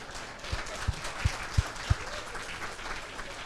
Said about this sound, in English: I can see those claps